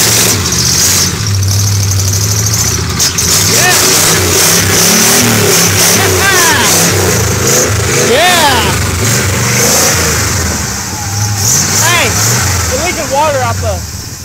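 A 1964 Chevrolet C10 pickup with a loud exhaust and a dead battery cranks and catches, then revs repeatedly in rough bursts, close and loud, while people talk over it.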